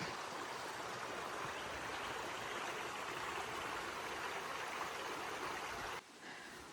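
Brown Mountain Creek on the Appalachian Trail rushes and babbles steadily nearby, a continuous even flow that drops off abruptly near the end.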